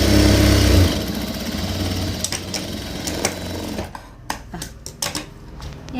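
A domestic sewing machine runs a loud continuous stitching burst on fabric pieces for a petticoat, then stops, leaving a few close clicks and knocks of handling the cloth.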